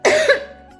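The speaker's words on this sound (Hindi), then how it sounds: "खांसी लगने लगी मेरे को" A woman coughs once while sweeping rooms at home, a short, loud, close hack with a quick second burst that fades out.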